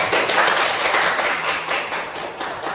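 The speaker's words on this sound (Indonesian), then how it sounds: "Tepuk tangannya dong." An audience of teachers at a school training session claps together, a dense, steady patter of hands filling the room without speech.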